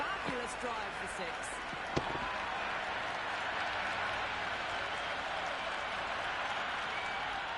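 A stadium crowd in an India vs New Zealand T10 cricket video game roaring steadily after a six, a broad continuous swell of cheering with a few sharp bat-like knocks near the start.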